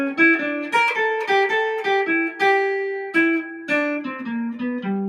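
A western swing guitar plays a clean, bright single-note lick from a solo, a quick run of plucked notes with a few sustained tones, close and alone.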